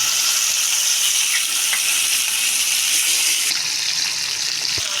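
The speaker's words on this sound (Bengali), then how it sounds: "এবার মাছটাকে একে একে দিয়ে ভেজে নেব" Katla fish pieces, rubbed with salt and turmeric, fry in hot oil in a wok, giving a steady, loud, close hiss with no speech, plus a few faint clicks and a brief dip partway through.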